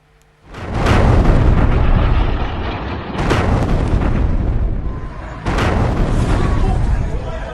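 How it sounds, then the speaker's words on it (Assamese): News footage of suicide bomb explosions at Kabul airport: three loud, heavy booming blasts, each followed by a sustained roaring rumble that fills the clip. "কাবুল বিমান বন্দৰত দুটাকৈ আত্মঘাতী বিস্ফোৰণ।"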